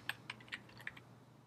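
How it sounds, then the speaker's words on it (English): Typing a question on a computer keyboard: about five quick, light key clicks spread over a second, fairly faint and close, with no voice, then quiet. "it's real easy to type the question in"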